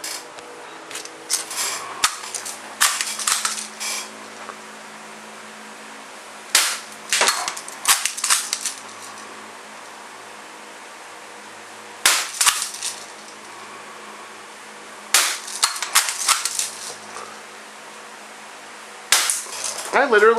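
A Marksman Repeater BB gun fires in short bursts of sharp, snappy cracks, several quick shots per burst with pauses of a few seconds between them, close and crisp over a quiet background.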